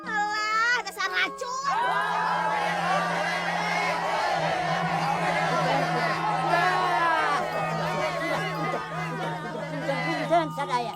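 A noisy crowd of villagers gathers at a cemetery, a dense overlapping chatter of many voices including children and shouts, loud and continuous.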